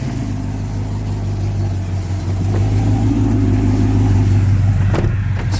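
A supercharged 2020 Chevy Silverado 1500 RST with a Whipple supercharger at around 530 wheel horsepower, its engine droning steadily and building slightly in revs, with a faint whine riding over the close, continuous engine note.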